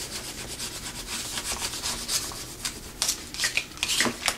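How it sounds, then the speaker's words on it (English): Vinyl letters being burnished onto a wall hanging make quick, dry scratchy rubbing strokes, close and fairly quiet, growing busier and more clustered toward the end. "So I'm just going to burnish the letters down"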